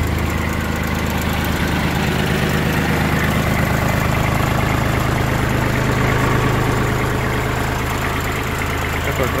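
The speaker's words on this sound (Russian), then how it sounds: "Сегодня у нас обзорчик Kubota GB20, вот такой достаточно компактный, при этом мощный тракторок" A Kubota GB20 compact four-wheel-drive tractor engine idles nearby with a steady, loud diesel chug and vibrating knock that holds without pause throughout.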